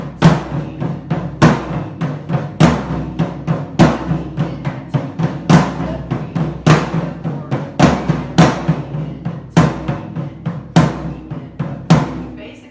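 A drum kit plays the accent pattern of a drum solo at a slow tempo, a close, steady stream of even strokes with regularly recurring louder accents and no talking.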